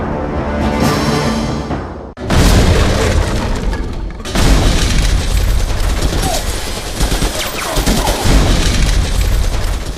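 Sustained gunfire from a panchayat gang war over a house dispute in Ayodhya, loud and dense bursts of shots and booms filling the clip, broken by a brief pause near two seconds, with faint voices underneath.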